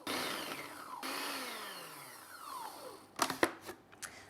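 A food processor pulses cubed butter into flour for quiche pastry: a loud whirring burst of blades that winds down in pitch, a second whir that also fades, then a few sharp knocks and rattles near the end.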